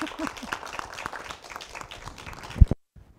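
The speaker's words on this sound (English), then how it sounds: "One last applause." A crowd claps for a few seconds, the applause thinning out before a sudden loud thump and then quiet.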